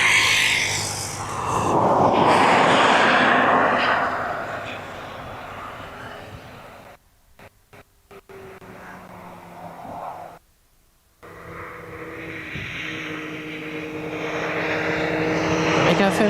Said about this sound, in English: Some engine work going on there.